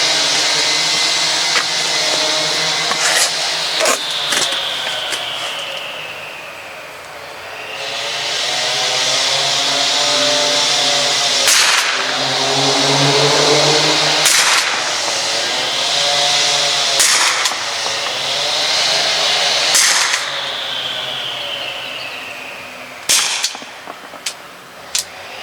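HDP50 gun shooting stock factory rubber balls at a target, a string of sharp cracks and clanks over a loud whooshing, whining hiss that rises and falls in long surges.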